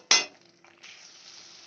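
Spice paste for a vegetarian cabbage dish is stir-fried in hot oil: a sharp sizzle bursts at the start as it is stirred, then fades to a steady, softer frying hiss that carries on to the end.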